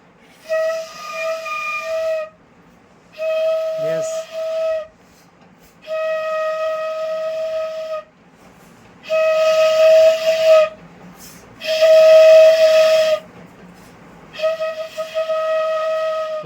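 Bamboo flute blown in a series of sustained tones, roughly six breathy phrases of a second or two each separated by short pauses, clear and close with no talking.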